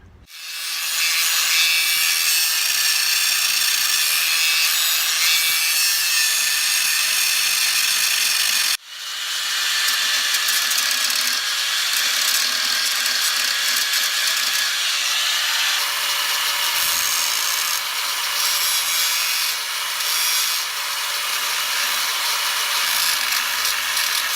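A 4.5 inch angle grinder with a thin wafer blade cuts through a metal wood-burning stove leg, a loud continuous high-pitched grind that briefly stops and then resumes.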